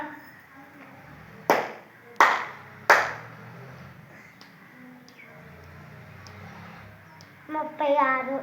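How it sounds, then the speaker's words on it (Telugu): Children in a classroom place-value activity give three loud, separate claps about a second apart, then quiet stretches with faint taps before a voice speaks near the end. "ఇక్కడ ఒక చప్పటి కొడితే పది లెక్క ఒక చిటికేస్తే ఒకటి లెక్క"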